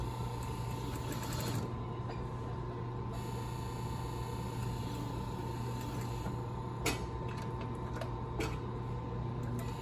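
A sewing machine stitching a garment lining seam, a steady rapid mechanical whir with a constant hum and a few sharper clicks near the end.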